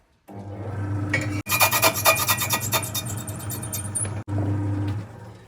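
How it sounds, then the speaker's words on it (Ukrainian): Steady metallic rasping of a file sharpening a drill bit, continuous with two brief breaks, close and fairly loud. "наскільки Андрій майстер по заточці свердло"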